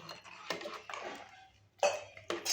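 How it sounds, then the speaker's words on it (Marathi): Ragi (finger millet) papad batter stirred in a pot with a spoon, heard as a few faint, close scraping strokes and clinks against the metal, separated by short quiet gaps. "चांगलं हलवून घ्यायचं"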